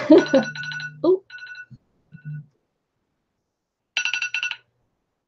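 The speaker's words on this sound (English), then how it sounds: "That's my alarm telling me how much I haven't got much longer left to go before I have to start getting ready" Phone alarm ringing in short bursts of bright electronic tones, stopping, then sounding again after a pause, with a brief spoken exclamation and a few soft voice sounds mixed in near the start.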